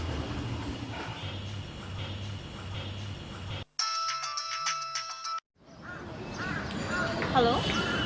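A mobile phone call rings in a Bangla TV drama scene, a bright electronic ringtone pattern sounding clearly for about two seconds between stretches of indoor background noise.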